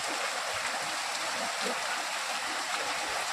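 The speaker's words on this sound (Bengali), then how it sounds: "পুরো বৃষ্টি হচ্ছে সকাল থেকে" Steady rain falls in a village on a cold morning, a constant even hiss of dense drops with no breaks and no voices.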